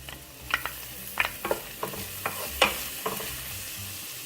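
Onions and ginger fry in a pan for Bicol laing, a steady sizzle broken by several sharp scrapes and clacks of stirring spread across the stretch, fairly close and moderately loud with no voices.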